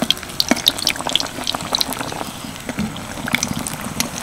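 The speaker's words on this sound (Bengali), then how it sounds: "এখানে একটা একটা করেই ভাজতে হবে।" Large bottle gourd chops frying one at a time in hot oil in a home kitchen, with scattered crackling pops and sizzling bursts up close, no talking.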